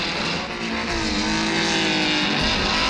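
Racing cars roar around the Monaco Grand Prix circuit in the era of Stirling Moss and Jack Brabham's Cooper Climax, a dense, sustained engine howl with pitch climbing as the cars accelerate close by.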